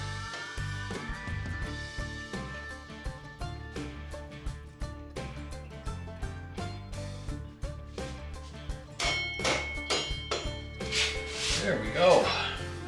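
A metal axle is fitted into the hub of an old wheel being saved, with clanging and knocking metal-on-wood impacts in irregular bursts, a ringing clang near the end, and a person talking intermittently.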